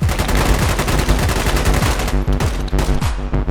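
Rapid, heavy gunfire from a sniper firing in the military shooter game Squad, with dense overlapping shots and booming reports that fill the space loudly and continuously, no voices heard.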